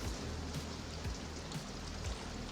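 Steady rain pours down in a film scene set at a bar, a dense even hiss with occasional low thumps beneath, continuous and fairly faint, with no voices.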